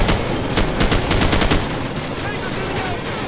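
Loud, continuous gunfire from Call of Duty 4 Modern Warfare: rapid rhythmic machine-gun bursts up close, crisp repeated cracks blending into a dense, unbroken wall of shooting and battle din.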